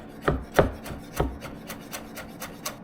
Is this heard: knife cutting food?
yes